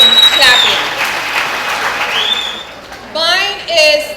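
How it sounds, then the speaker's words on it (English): Applause for an honoree at a Jamaican diaspora foundation gala rises partway through, and someone talks through much of it from the stage. "I'm gonna clap him, clap him, clap him."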